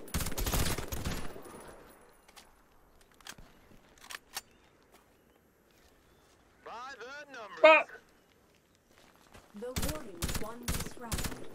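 A slow-firing gun in a video game, with a rapid volley of sharp shots at the start, a few isolated single shots spaced seconds apart, then another burst of shots at the end; a voice speaks briefly in the middle.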